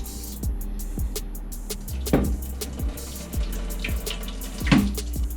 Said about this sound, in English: Ideally, you don't use a strainer, you just strain directly out of the pot because these are pretty fragile.